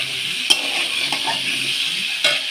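Potatoes fry with salt in a pan, giving a loud, continuous sizzle broken by a few sharp clinks and scrapes of a utensil against the pan. No one speaks.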